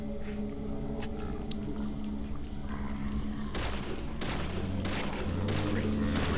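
Gunfire rings out in the Deadly Premonition warehouse chase, several sharp shots in an uneven series over a low rumbling game backdrop, with a voice talking at moments.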